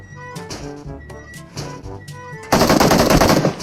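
Automatic gunfire in the PUBG Mobile video game, a loud sustained burst of rapid shots breaking out after a quieter stretch of in-game ambience and scattered shots.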